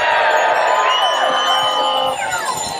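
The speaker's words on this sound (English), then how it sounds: "Can I have another cheer?" A large crowd at a Pedal on Parliament cycling rally cheering and whooping loudly, a dense, sustained roar of voices with rising shouts lasting the whole moment.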